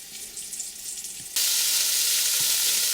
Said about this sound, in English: I'm going to put them fat side down, kind of render out some of that fat in here